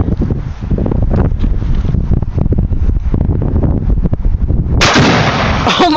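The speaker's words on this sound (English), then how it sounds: "All right, shoot those fish." A shotgun fired at a fish outdoors gives loud, blasting bursts over heavy wind rumble, ending in a sudden sharp broadband roar that holds to the end.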